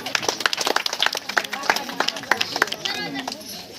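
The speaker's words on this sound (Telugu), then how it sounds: "చప్పట్లు కొట్టాలమ్మా, చప్పట్లు కొట్టాలి." An audience clapping at a Christmas celebration, with scattered uneven claps close by that thicken into brief applause, amid voices and the chatter of children.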